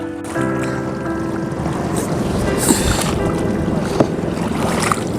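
Steady water and wind noise from a small rowboat being paddled across open water in windy conditions, with occasional soft splashes and knocks; no talking.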